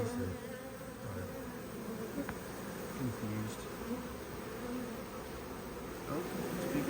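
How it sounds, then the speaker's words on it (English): A large honeybee swarm in a garden gives off a steady, dense buzzing hum that fills the scene from close by, with a brief word of speech over it. "They're probably just younger bees that are"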